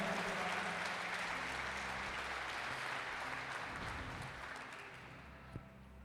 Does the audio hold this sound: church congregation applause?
yes